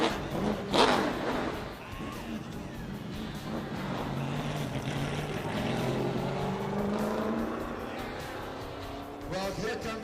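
Race cars and a pace car circling Redwood Acres Raceway, engines droning and rising as they pass at a distance, with crowd and background voices mixed in.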